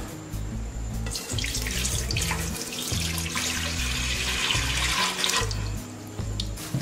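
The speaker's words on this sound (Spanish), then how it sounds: "Ahora pondremos los 300 mililitros de agua a calentar." About 300 millilitres of water run from a tap into a pot on the stove, a continuous close splashing stream that changes pitch as it fills, with no voices.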